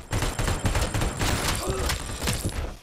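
An ED-209 robot firing its guns in Robocop Rogue City: loud, rapid machine-gun bursts with thudding impacts packed densely across the whole stretch, close and continuous.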